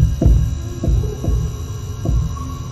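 Heartbeat in a Backrooms horror game, with deep, booming low thumps in a slow, uneven rhythm over a steady hum.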